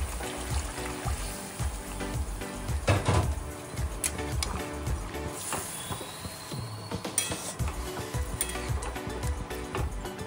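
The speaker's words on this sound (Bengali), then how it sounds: "এই মশলা ধোয়া জলটাও দিয়ে দিলাম, বাটি ধোয়ার জলটা।" Spice-rinsing water from a bowl poured into a pot of sizzling Bengali country chicken curry, with trickling and splashing, a few clinks of metal, and sizzle flaring up mid-clip.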